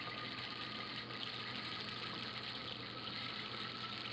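Water pours steadily into a bottle, making a continuous, even gushing and splashing flow that holds the same level throughout, with no voices.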